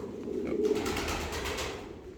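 A prized pigeon gives a soft, low, rolling coo close by in a quiet room, one short phrase that fades out.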